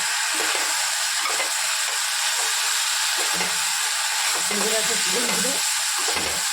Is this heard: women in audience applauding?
no